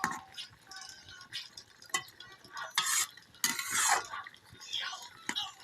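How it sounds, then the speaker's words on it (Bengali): Spoon stirring fish curry of small hilsa in a pan, with irregular scraping and clinking strokes and soft sizzling between them, close and moderately loud, no talking. "ধীরে ধীরে নাড়াচাড়া দিয়ে দিতে হবে"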